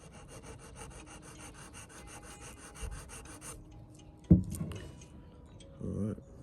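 A tree resin bead rubbed on sandpaper to cut facets, giving a soft, close, repeated rasping scrape, with a sharp knock partway through and faint background sound.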